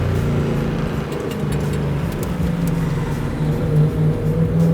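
A 750 hp 1970 Plymouth Cuda accelerating hard, a deep, loud, continuous V8 rumble with rough low throb and faint rising revs.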